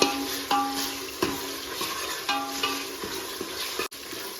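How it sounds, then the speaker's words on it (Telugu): Ginger garlic paste frying in a pan for a goat head and leg curry, a soft steady sizzle broken by a few sharp clinks and scrapes of a stirring spoon, fairly quiet and with no talking. "తెల్లపాయ పేస్ట్ అంతా వేస్తున్నా. ఇది పచ్చి వాసన పోయేంత వరకు వేయించుకోవాలి."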